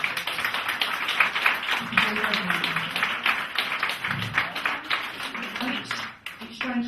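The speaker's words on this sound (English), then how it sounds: "Give Caroline a massive round of applause." A studio audience gives Caroline a sustained round of applause, a dense, continuous wash of clapping that runs throughout, with voices heard over it.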